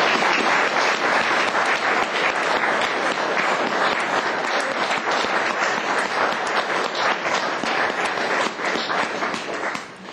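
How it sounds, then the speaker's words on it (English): A St John Ambulance gathering in Loughborough breaks into sustained applause, a dense even round of clapping that carries on for several seconds before easing slightly at the end. "And I think a round of applause ought to be for her."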